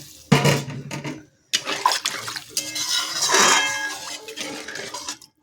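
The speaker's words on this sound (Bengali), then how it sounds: "দিয়ে দেবো পরিমাণ মতো ঝোল যতটুকু লাগবে সেই ধরে জল" Water poured into a pan of spiced fish curry masala for chela fish jhal, a close splashing rush with clinks of pan and utensils, running for several seconds with a brief pause.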